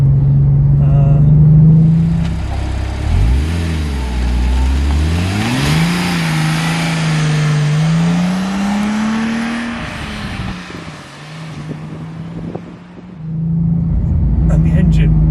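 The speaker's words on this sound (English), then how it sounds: "if you just touch the accelerator when you've got a reasonable amount of revs, it goes." A Porsche 911 Turbo engine revs up and pulls hard under acceleration, its loud, close rumble climbing and dipping in pitch through shifts before settling and building again.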